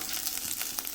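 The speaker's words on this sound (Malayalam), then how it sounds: "ഇതിലേക്ക് അണ്ടിപ്പരിപ്പ് സവാളയും കൂടി ഇട്ട് വറുത്തെടുക്കുകയാണ്." Cashews and sliced onion frying in hot ghee in a pan, a steady close sizzle and crackle with small bursts of spitting throughout, no voices.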